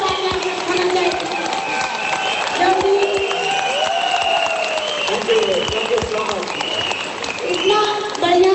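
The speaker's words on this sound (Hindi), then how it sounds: "खड़े होकर एक जबरदस्त तालियां होना चाहिए।" An audience at a Hindi seminar gives a standing ovation to a professor, with dense, sustained clapping mixed with voices and tonal sounds throughout.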